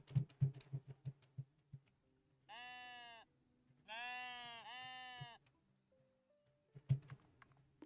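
Two drawn-out sheep bleats from the video game Tiny Glade in the middle, framed by soft rhythmic clicking like keyboard taps before and after.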